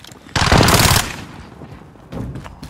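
Rapid automatic gunfire, likely an MP5, in Call of Duty Modern Warfare gameplay: a loud, dense burst of roughly half a second, then a quieter pause and a shorter second burst, with no talk.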